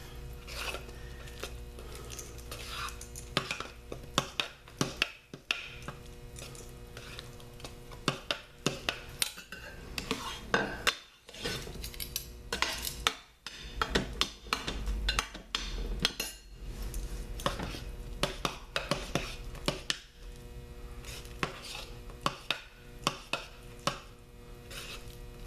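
A utensil stirs hot process soap with bentonite clay, with steady scraping and clinking against a pot in a busy, continuous rhythm and no talking.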